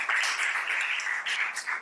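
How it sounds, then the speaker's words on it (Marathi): An audience gives loud, continuous applause for a group of girls at a celebratory event, a dense wash of clapping that holds steady for a couple of seconds. "सो एकदा ह्या OTA केलेल्या मुलींसाठी पण आपण जोरदार टाळ्या देऊया."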